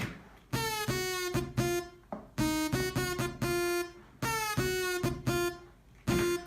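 Saw-wave synth in FL Studio with the chorus effect removed, a bright, buzzy lead playing a repeating staccato riff of short notes and pauses, heard alone at moderate volume.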